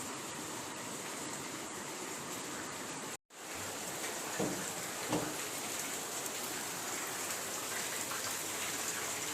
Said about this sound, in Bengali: এই যে বৃষ্টির সময় সাধারণত দেখানো হয় না, এই যে ফুলগুলোর উপরে জল পড়ছে।